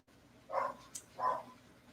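A dog indoors gives two short, moderately loud barks about half a second apart, with no talking around them.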